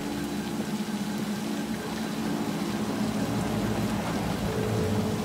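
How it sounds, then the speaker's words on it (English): Steady rain hisses and patters continuously in the video game Cyberpunk 2077, with a low rumble underneath and no voices. "Oh, it's raining."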